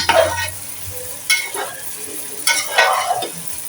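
A tadka of cumin, curry leaves and green onion sizzles in hot oil in a home kitchen, with bursts of crackling frying and stirring rising and falling in a few short waves, close by and without talk.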